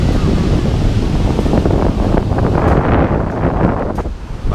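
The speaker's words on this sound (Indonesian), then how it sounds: "Anginnya juga luar biasa kencang ini hari ini." Strong wind buffets the microphone at Lhoknga beach in Aceh, a loud continuous roar with gusty swells, and surf from high waves rumbles underneath throughout.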